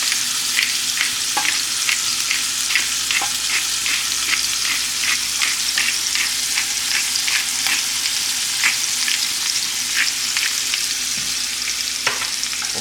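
Smash burger patties fry on a hot griddle with a steady, loud sizzle, broken by repeated light scraping or tapping clicks throughout, with no talking.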